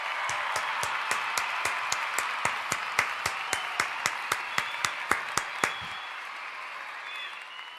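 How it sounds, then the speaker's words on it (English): A small round of clapping on a wrestling review podcast, crisp evenly spaced claps close by, steady rhythm for about six seconds and then stopping. "A round of applause for that one, brother."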